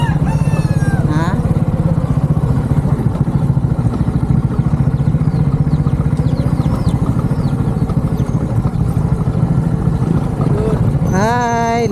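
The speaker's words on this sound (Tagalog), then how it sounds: "Lagarat lagi niya akong motor" A motorcycle rides along a rough, difficult road, its engine droning steadily and loud throughout; a rooster crows in the background and someone talks over it.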